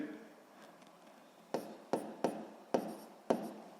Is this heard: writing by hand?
yes